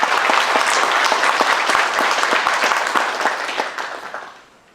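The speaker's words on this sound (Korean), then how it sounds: "오늘 귀중한 시간을 내주신 이 여러분들께 박수로 환영의 뜻을 한번 표해 주시죠" A forum audience applauds to welcome guests, dense steady clapping from a crowd in a hall that thins and fades out over the final second.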